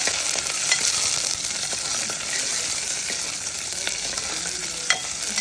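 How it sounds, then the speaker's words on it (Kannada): Onion, mustard seeds and curry leaves fry in a little oil for a sambar tempering, giving a steady, close hiss and sizzle with a few faint pops and clinks of stirring throughout. "ಈಗ ಒಗ್ಗರಣೆಗೆ ಎಣ್ಣೆ ಸ್ವಲ್ಪ, ಸಾಸಿವೆ, ಕರ್ಬೇವಿನ ಸೊಪ್ಪು, ಈರುಳ್ಳಿ ಹಾಕ್ಕೊಂಡು ಸ್ವಲ್ಪ ಬಾಡಿಸ್ಕೋಬೇಕು."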